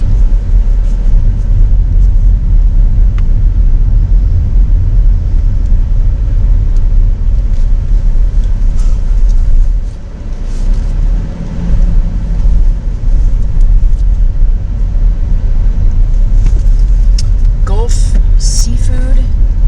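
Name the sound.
car driving around a Texas coastal town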